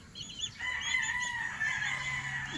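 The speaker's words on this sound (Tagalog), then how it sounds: "Yan mga sisiw ko, ang gaganda." Young chicks on a farm kept among gamecocks peep in thin, high tones over a steady wash of background noise, fairly faint, with a low hum joining toward the end.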